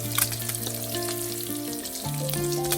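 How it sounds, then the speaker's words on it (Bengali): Eggs frying in oil for a Bengali egg bhuna, a light steady sizzle with faint crackles beneath prominent sustained musical tones. "আমি এই পরিমাণ ভাজবো, এর থেকে বেশি ভাজলে ডিমটা শক্ত হয়ে যাবে"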